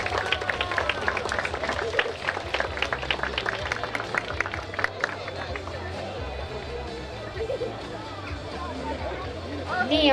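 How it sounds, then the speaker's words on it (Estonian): Outdoor crowd applause at a children's race awards in Kullamaa, a burst of scattered close clapping that fades after a few seconds into crowd murmur with people talking. "Aplaus võitjatele."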